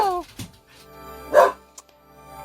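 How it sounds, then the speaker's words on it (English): A dog barks indoors in a quiet room: one sharp, loud bark near the middle, with a softer yelp before it and a brief fainter yip after, set against low background hum. "he likes to bark"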